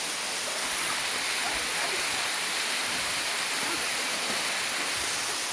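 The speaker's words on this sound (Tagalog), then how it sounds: "Totoo nga, may falls." A waterfall inside a resort gives a steady, dense roar of rushing water, loud and constant throughout, with no break in the wash of sound.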